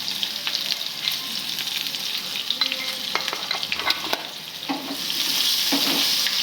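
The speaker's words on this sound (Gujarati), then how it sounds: "હવે ડુંગળીને સારી રીતે સાતળી લેશું।" Onions sautéing in a pan with turmeric and salt, a close sizzle with stirring scrapes and clicks, the frying hiss growing louder toward the end.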